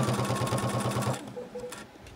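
Sewing machine stitching bias binding onto a reusable face mask case with clear vinyl: a fast, even mechanical chatter for about a second, then it stops and leaves quiet room sound.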